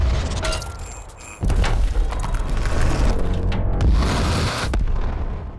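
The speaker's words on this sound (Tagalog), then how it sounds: "nakaisip siya ng isang napakatalino na ideya at nagpaputok ng isang shot sa ilalim mismo ng tangke" A tank cannon fired beneath a German tank, the shell punching through concrete: a sudden loud boom bursts in and leaves a sustained heavy rumble and crackle that stays close and dense for several seconds, with no voices.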